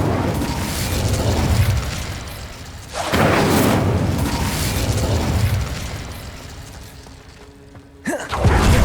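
Fire spell bursts in the video game Hogwarts Legacy: loud roaring whooshes swell around three seconds in and again near eight seconds, over a dense continuous game soundscape, with no talking.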